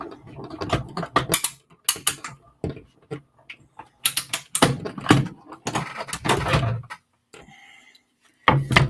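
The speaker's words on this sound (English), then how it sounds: "I'm going to tack it down with the Post-it note and then run this through the machine." Stampin' Up die-cutting machine cranked by hand to feed a card through, a run of ratcheting clicks and gear rattles in bursts with short pauses, close and clear.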